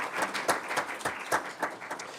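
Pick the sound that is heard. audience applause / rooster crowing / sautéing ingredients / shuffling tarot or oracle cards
audience applause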